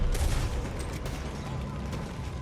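Gunfire in Red Dead Redemption 2, a dense, loud fusillade of overlapping shots that carries on without pause through the whole stretch, with voices shouting underneath.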